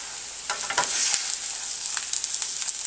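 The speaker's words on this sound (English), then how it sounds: "Time to flip over our burger." A burger patty for loco moco sizzling steadily in a pan just after being flipped, a bright hiss with a couple of utensil clinks early on, close and fairly loud.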